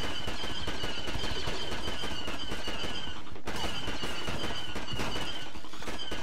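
Enemy blaster fire in Star Wars Battlefront 2 on Christophsis rattles in dense, rapid bursts of shots, loud and continuous with a high whine running through, briefly cutting out midway before resuming.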